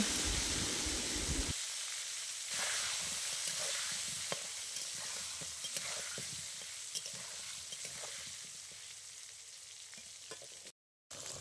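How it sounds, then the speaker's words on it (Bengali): Potatoes fry in hot oil with turmeric and salt, making a steady, close, hissing sizzle throughout. Occasional stirring clicks and scrapes break through, and a brief dropout comes near the end. "আলুগুলো লাল লাল করে ভেজে নেব"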